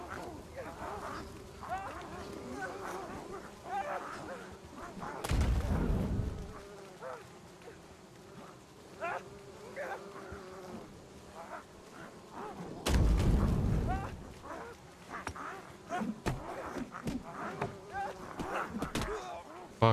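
Bombs exploding in the video game Last Oasis: two loud, deep booms several seconds apart, each rumbling out over a busy game soundscape of quacking and buzzing, with a voice talking throughout.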